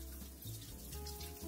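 A bathroom tap runs into a sink while face cleanser is rinsed off, a soft steady water stream with light splashing, fairly quiet and close, with no talk.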